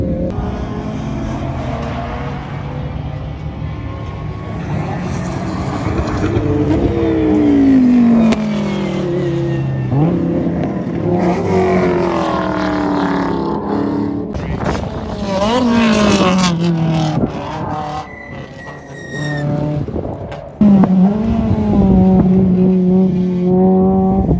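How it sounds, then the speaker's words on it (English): Cars driving at Willow Springs race track, engines revving and shifting pitch as they accelerate and pass, loud and near, with several overlapping vehicles and an abrupt change near the end. "Look, it's a car."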